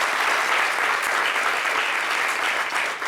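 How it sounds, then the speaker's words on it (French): An audience at a fashion show applauds a model on the runway, a thick, continuous roar of clapping that stays loud and even from start to finish with no speech over it. "On va applaudir pour Déborah"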